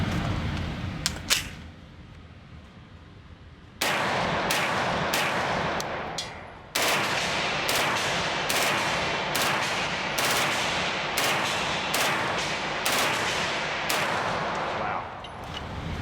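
A Beretta PMX submachine gun fires at a very high cyclic rate in a series of loud, rapid bursts with short pauses between them, sharp and close after an initial quiet stretch.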